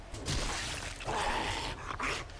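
A dog whimpers and yips in the survival video game 7 Days to Die, its faint cries sitting in a wash of steady background noise.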